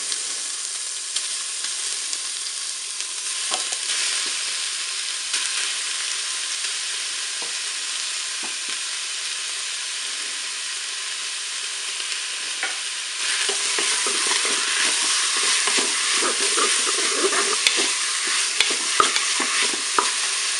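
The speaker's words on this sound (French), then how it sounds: "je vais ajouter ma viande hachée" Ground beef fries in a Cookeo multicooker with a steady, close sizzle that grows louder and crackles more in the second half as stirring scrapes through.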